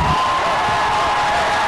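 Loud crowd noise from students at the Ryerson Frosh Week concert as Norm Kelly appears onstage, a dense, steady roar of cheering filling the whole moment.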